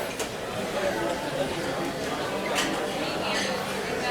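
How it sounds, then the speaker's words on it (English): Restaurant ambience at a dinner table, a steady bed of overlapping diner chatter and murmuring voices with occasional faint clinks, even and moderately loud throughout with no single dominant speaker. "or a restaurant."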